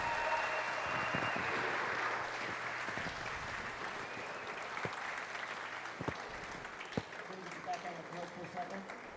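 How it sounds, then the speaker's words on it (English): Spectators at a USHA national handball match in 2015 give sustained applause as a player leaves the court, the clapping fading into scattered claps, with a commentator talking over it. "the crowd gave Paul a huge round of applause there as he came out of the courts"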